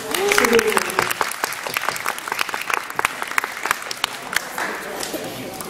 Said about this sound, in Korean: 큰 박수로 우리 환영합시다.